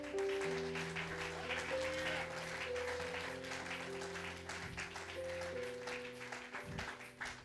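A church congregation at an Easter service claps in praise of Jesus, a soft steady patter of many hands sounding fairly distant beneath sustained keyboard or organ tones.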